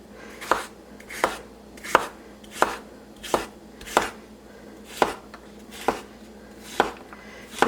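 A knife chops zucchini sticks into small relish pieces on a board, about a dozen crisp, evenly spaced thuds in a steady rhythm, close and clear, with no talking.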